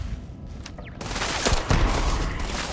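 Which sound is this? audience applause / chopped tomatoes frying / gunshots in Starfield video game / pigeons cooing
gunshots in Starfield video game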